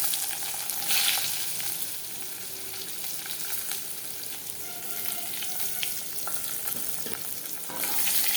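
Eggplant tumbling into a hot frying pan for a spicy pabda fish curry gives a steady, close oil sizzle with light stirring scrapes, a little louder at the start and again near the end.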